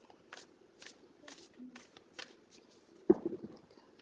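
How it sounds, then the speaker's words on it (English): Starseed oracle card deck being shuffled in several quick riffling bursts, close and fairly soft, ending with a sharper snap of cards, with someone speaking faintly in the background. "Shuffle them."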